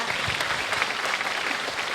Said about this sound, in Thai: ผมจะขอเสียงปรบมือนะครับ ให้กับเพื่อนคุณสวัสดิ์นะครับคุ ณวิทย์นะครับ